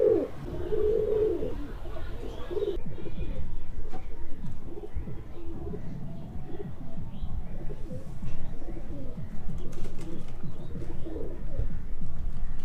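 A pair of pigeons held in hand during pairing coo in low, rolling calls, one after another across the stretch, close by, with faint handling noise and some background sound.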